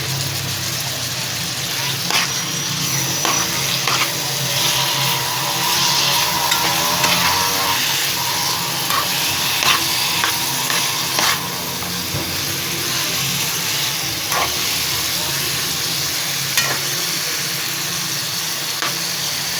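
Chicken pieces dropped into hot oil with garlic-ginger paste, giving a steady broadband frying sizzle with occasional stirring clatter throughout, fairly close and even in loudness.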